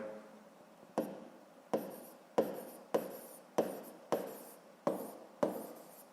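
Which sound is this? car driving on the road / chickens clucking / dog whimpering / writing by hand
writing by hand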